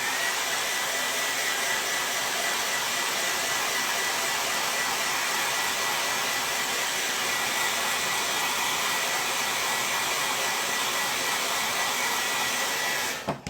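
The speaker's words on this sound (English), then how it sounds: "now dryer's about to go on. It's going to be a little loud." A loud, steady blower roar runs continuously without a break, then cuts off abruptly at the end.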